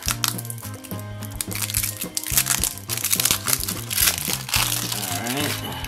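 A very old, tightly sealed and glued cellophane trading card pack is crinkled and ripped open, giving close, crackling bursts of plastic over background music, with a voice speaking at times.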